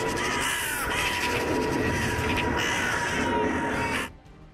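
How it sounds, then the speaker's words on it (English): A whole flock of magpies and crows caws loudly and continuously, calls overlapping in a harsh chorus that cuts off abruptly near the end. "enduring the deafening caws of a whole flock of magpies and crows"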